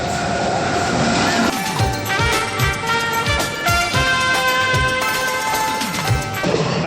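A long train rolls past a level crossing up close, loud rhythmic wheel clatter over rail joints with metallic squealing and ringing tones, continuous throughout.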